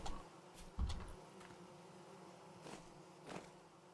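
Bees buzz faintly in a maple tree in the Vintage Story survival game, a soft steady insect drone with a few brief swells and no talk over it.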